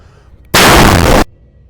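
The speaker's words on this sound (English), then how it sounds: "the sound of a single gunshot filled the entire bunker" A single gunshot rings out inside a bunker as one loud, sharp blast that hangs for a moment before cutting off, with near silence before and after.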